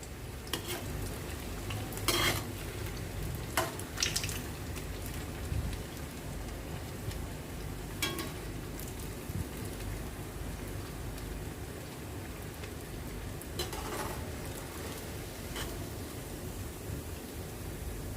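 Mysore bonda frying in hot oil, a soft continuous sizzle and bubbling crackle heard steadily at low level, with a few brief louder splashy bursts and no talking.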